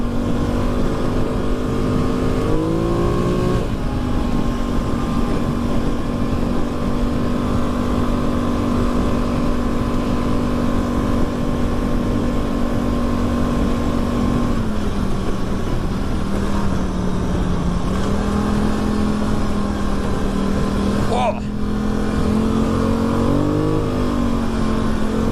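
Quad bike engine droning loudly and steadily throughout, its revs rising and falling as the wheels slip and spin on the way to work, with a sharp rev swell near the end.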